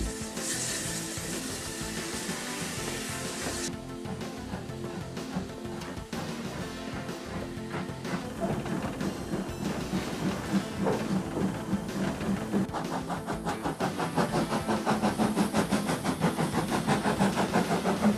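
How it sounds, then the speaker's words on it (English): A steam locomotive on a historic railway in England's Midlands chugs and hisses steadily, its rhythmic exhaust beats growing denser and louder as the engine gathers speed. "You can feel the power of these massive engines as the wheels get up to speed."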